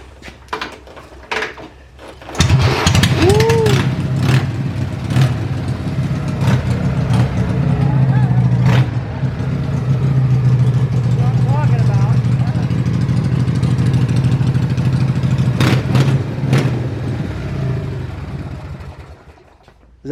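A 1976 Harley-Davidson Shovelhead motorcycle engine starts after a few sharp knocks and settles into a steady, fairly loud low idle for most of the stretch, then cuts out near the end; people speak over it.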